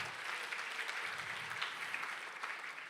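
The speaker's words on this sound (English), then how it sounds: "Please do a round of applause." An audience gives a steady, even round of applause for a guest speaker and panelists, many hands clapping together at moderate distance with no voices standing out.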